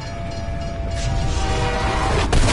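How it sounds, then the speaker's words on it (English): A train rolls past in Call of Duty Black Ops Cold War Zombies, a steady loud rumble building through the clip with a brief brighter burst near the end, no talk. "I hope you're smart enough to avoid being hit by a train."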